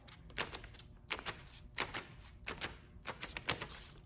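Holes punched into a sketchbook page with a needle tool and hole punch: a run of quiet, sharp taps and clicks in a steady, irregular rhythm, close up, with no voices.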